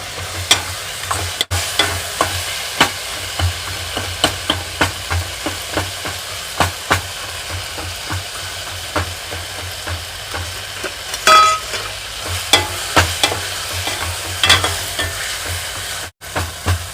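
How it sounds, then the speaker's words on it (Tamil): Steady frying sizzle of tomato, onion and garlic sautéing in a pan with repeated stirring scrapes and clinks, close by, continuous with no voices. "அந்த தக்காளி வெங்காயம் பூண்டு எல்லாம் வதங்கிடுச்சு."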